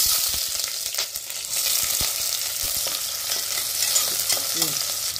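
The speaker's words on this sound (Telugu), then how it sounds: "ఈ ఆనియన్ బాగా ఫ్రై అవ్వాలండి, గోల్డెన్ బ్రౌన్గా ఫ్రై చేస్తున్నాం" Onions frying in hot oil with bay leaf until golden brown, a steady close sizzle and crackle with occasional stirring scrapes, no talk.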